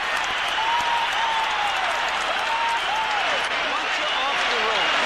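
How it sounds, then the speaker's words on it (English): A boxing arena crowd roars and applauds steadily on its feet at the end of round 7 of a pro superfight, with a dense, loud wash of cheering under a commentator's voice. "The end of round 7, the crowd on its feet."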